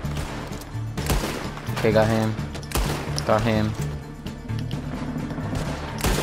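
Gunshots in a Red Dead Online bank robbery, a series of sharp, loud, close cracks spaced irregularly, with a player talking between and over the shots.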